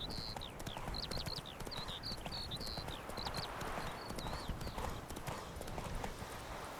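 A horse's hooves clip-clop at a steady trot in The Witcher 3: Wild Hunt, with continuous, close rhythmic beats over an ambient bed and bird calls chirping above.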